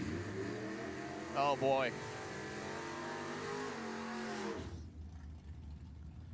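A 1964 Ford Fairlane and a 1955 Chevy wagon launch side by side at a drag strip, a steady distant engine roar that cuts off near the end, with a brief excited voice over it.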